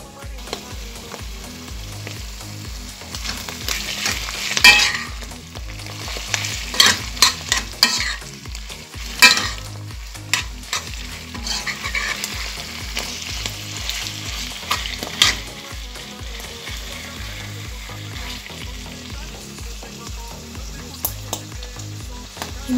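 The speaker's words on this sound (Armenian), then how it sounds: "հիմա պիտի ավելացնեմ սոխին և սնկին" Boiled chicken being fried with onions and mushrooms in a pan, a steady close sizzle broken by frequent clattering spatula strokes and scrapes as the mixture is stirred, with no voices.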